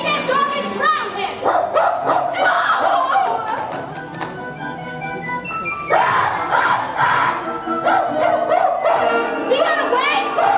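A small dog yapping and barking in a scene from The Wizard of Oz film, repeated sharp barks and whimpers mixed with raised voices and orchestral music.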